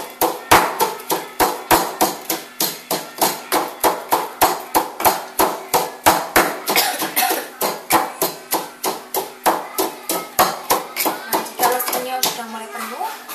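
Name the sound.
pounding chilies with mortar and pestle for sambal Padang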